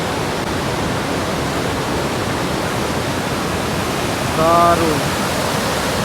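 Swollen monsoon Jaldhaka river current rushing past as a dense, constant roar of water, close and loud, with a man briefly exclaiming near the end.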